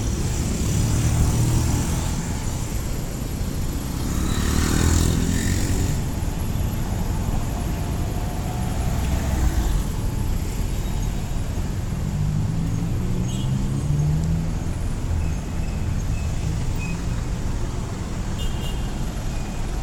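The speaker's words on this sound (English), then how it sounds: "And these kind of vehicles here, some sort of delivery vehicle, you'll see them all over the place." Steady street traffic in Manila, with cars, buses and motorcycle delivery vehicles rumbling past at close range, a continuous broad roar with passing engines swelling and fading throughout.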